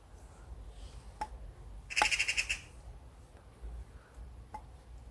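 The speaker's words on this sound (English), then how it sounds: "We've got a crow going off in the tree over there." A crow calls from a tree in a graveyard: one short burst of rapid, harsh, rattling notes at moderate distance, with a few faint clicks before and after in otherwise quiet surroundings.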